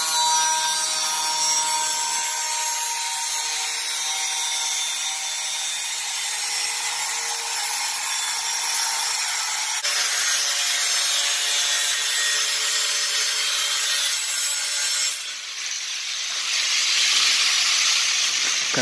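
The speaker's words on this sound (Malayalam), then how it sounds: "ശേഷം മാർക്ക് ചെയ്തേക്കുന്ന പോർഷൻ കട്ടിംഗ് വീൽ യൂസ് ചെയ്ത് കട്ട് ചെയ്യുക." A cutting wheel grinds through zebra blind material with a loud, continuous abrasive hiss that shifts in pitch and texture as the cut goes on, close up and with no voices.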